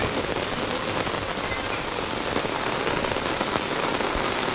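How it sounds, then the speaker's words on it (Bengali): Heavy rain pours down at a canal during a fishing trip, a dense, steady hiss of drops striking water and nearby surfaces, loud and close throughout with no voices. "আর এত বৃষ্টি হচ্ছে"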